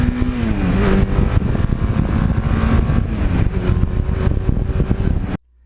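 A 1982 Suzuki GS1100E motorcycle being ridden on back roads, its engine a loud, close, continuous rumble with the pitch rising and falling through gear changes and throttle, ending in an abrupt cutoff.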